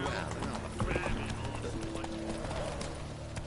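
Hoofbeats of Roach, a horse in The Witcher 3, in a fast clip-clopping rhythm, with a whinny-like tone and a soft voice passing over the steady gallop.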